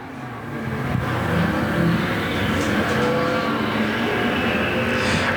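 Race cars roaring around an asphalt raceway during a Spring Havoc event at Golden Triangle Raceway Park, a steady loud engine drone from several cars lasting throughout, without speech.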